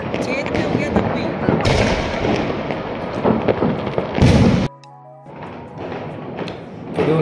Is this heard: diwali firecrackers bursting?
yes